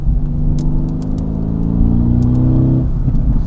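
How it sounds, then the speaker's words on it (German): A Mercedes-AMG GT R on a wet race track, exhaust flap open, holds a loud, close, droning engine note with strong low harmonics, punctuated by several sharp, brief exhaust pops and crackles. "wie der so hinten raus, dieses Backfire"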